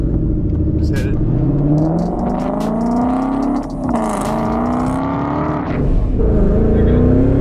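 A supercharged Ford Mustang pulls hard toward redline, its loud engine note climbing steadily in pitch. A brief dip at a gear change breaks the rise before the engine climbs again, close and dominant throughout.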